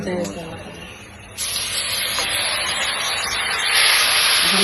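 Spice paste dropped into hot oil while cooking beef, a sudden loud hiss that rises and keeps sizzling steadily close by, with a voice heard briefly at the start.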